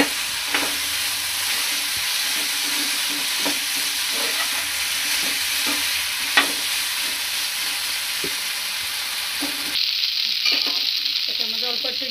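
Fried potato and papaya are stirred into a pan of spices with a little sugar and salt, giving a steady close sizzle. Regular scraping knocks of the spoon run through it, and the sound shifts slightly near the end.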